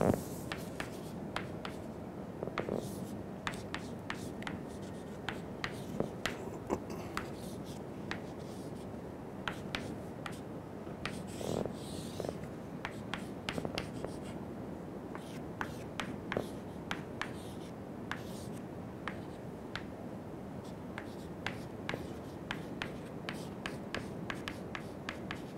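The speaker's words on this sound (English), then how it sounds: "Let me write that expression so that you will be able to" Chalk or marker writing on a board during an aeronautics lecture, with quick scratchy strokes and sharp taps coming in steady bursts, close and clear, and almost no talk over them.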